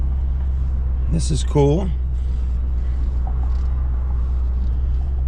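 A 2006 Maserati GranSport Spyder rolls along a road with a steady low engine rumble heard from inside the cabin, while someone briefly speaks over it.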